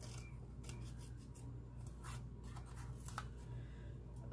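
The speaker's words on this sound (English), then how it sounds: "Let me cut that off so I can cut around it a little easier." Scissors cutting paper, trimming around a traced butterfly wing shape: faint, close snips and crisp slicing strokes repeating irregularly over a low steady hum.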